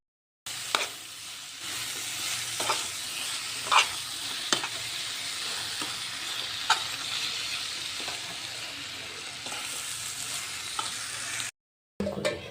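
Garlic, onion, ginger, cumin and whole coriander seeds sizzling in a hot pan, a steady close frying hiss with occasional stirring scrapes and pops.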